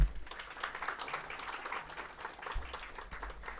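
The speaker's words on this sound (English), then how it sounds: "A big round of applause for those two." A crowd applauds steadily, dense clapping at moderate volume continuing throughout, with a faint low thump partway in.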